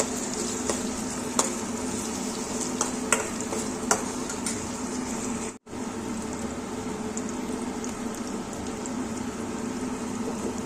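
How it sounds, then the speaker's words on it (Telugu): Chopped onion and green chilli frying in a little oil on the stove, giving a steady close sizzle that runs unbroken except for one brief dropout, with a few faint clinks of stirring and no voices. "ఇప్పుడు కట్ చేసి పెట్టుకున్న ఎర్రగడ్డ పచ్చిమిర్చి వేసి వేయించుకుందాం"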